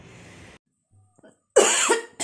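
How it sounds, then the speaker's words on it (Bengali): Two loud, harsh coughs close to the mic, following an earlier stretch of quieter noise and a brief pause. "আমার খুব কাশি হচ্ছে কেন জানি না"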